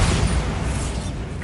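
A Bombarda spell explodes in Hogwarts Legacy, a loud, close, broad boom and rumble that opens at full force and decays over about a second and a half.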